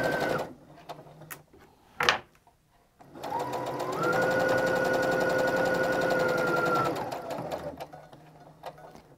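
Sewing machine stitching mittens made from an upcycled sweater, a steady close whirring run of several seconds after a short start, with quiet handling noises around it.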